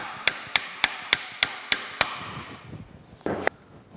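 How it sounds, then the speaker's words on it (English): A center punch tapped against a stuck part on an old White Mountain ice cream churn, seven evenly spaced sharp metallic knocks, close and clear, then a quieter scrape and one last knock. "Taking a center punch now and just kind of see if I can just get it to break loose."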